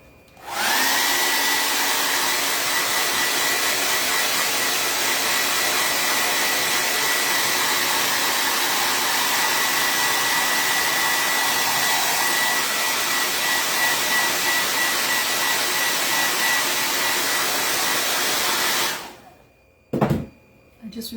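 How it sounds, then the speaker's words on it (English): A blow dryer drying paint on a vintage craft truck runs loud and steady for about eighteen seconds, then cuts off, followed by a couple of brief knocks. "Alright, I'm going to use the blow dryer real quick."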